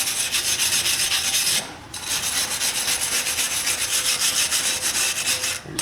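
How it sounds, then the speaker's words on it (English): A wire brush scrubs corrosion off the front wheel hub of a BMW 5 Series F10, a continuous harsh, raspy scraping close by that pauses briefly once before resuming. "Use a wire brush."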